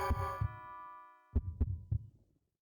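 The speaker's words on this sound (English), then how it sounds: "I can hear my heart beating." In a horror video game, a low, heavy heartbeat thumps in double beats, accompanied at first by a droning tone, then pauses before the pounding resumes, loud and close.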